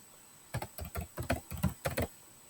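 Several short bursts of key presses on a computer keyboard as a folder name is typed in, close and clear against quiet room tone.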